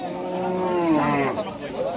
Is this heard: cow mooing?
yes